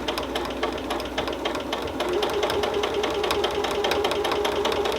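A sewing machine runs steadily while stitching a Christmas stocking, its needle chattering in a fast even rhythm, close and loud with no talk.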